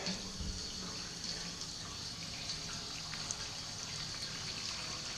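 Strike water for all-grain homebrewing runs steadily through a filter into a brewing vessel, a continuous hissing trickle at moderate level with no talk.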